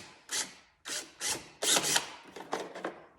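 A drill bores a hole in a 2021 Ski-Doo 850 Turbo snowmobile panel to fit Xtreme Air Vents, whirring in several short, close bursts separated by brief pauses.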